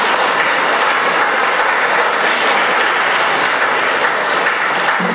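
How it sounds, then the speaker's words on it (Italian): Audience applause greeting the Three Kings arriving at the Sacred Heart church in Teramo: steady, loud, dense clapping from a crowd, continuous and unbroken, with no speech over it. "Facciamo un bel applauso a questi re magi"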